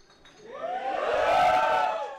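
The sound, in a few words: comedy audience cheering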